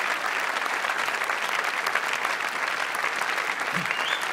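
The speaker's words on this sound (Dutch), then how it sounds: "dames en heren, uw applaus" Steady, dense applause from the crowd at the Plopsaqua opening show fills the space for a few seconds, loud and continuous without a break.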